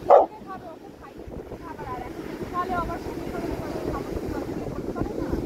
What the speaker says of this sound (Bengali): ও তো এখন সমুদ্রে যাওয়ার জন্য চিৎকার করছে